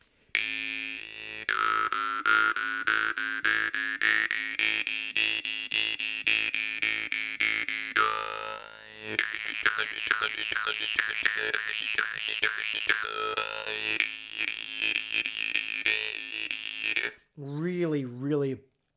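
An untuned jaw harp by Shaun Jones played alone up close, running a twangy buzzing line that climbs in steady plucked pulses, then shifts into a wavering, rapidly modulated drone before a short sliding flourish at the end.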